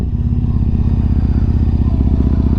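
A Yamaha MT-01 motorcycle idling close by, its big engine thumping in a steady, rapid low pulse that stays even and loud throughout, with no talking.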